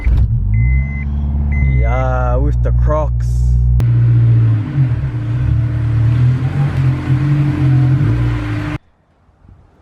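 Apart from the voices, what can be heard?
Honda S2000 car being driven into garage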